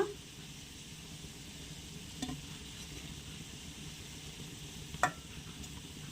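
Gulab jamun frying in hot oil, a continuous soft sizzle with a couple of brief clinks or stirring knocks, no talking.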